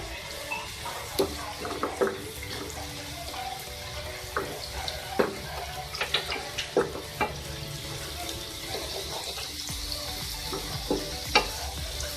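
Omelette mixture of egg with turmeric and cumin being stirred in a bowl, a run of wet scraping and tapping strokes at an irregular rhythm over a steady background hiss.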